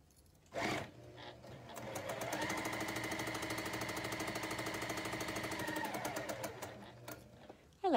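A sewing machine stitching a quilt block, running in one steady, rapid mechanical whir for several seconds after a brief knock, close but fairly quiet, stopping near the end.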